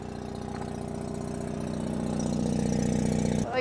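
A diesel heater, its exhaust vented out through the wall of a shop, runs with a steady low mechanical drone and rhythmic knocking pulses, growing slightly louder before cutting off abruptly.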